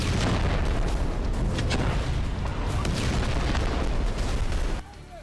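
Bombing in Gaza brings a continuous heavy roar of blasts and rumbling booms, loud and dense, that drops off abruptly near the end.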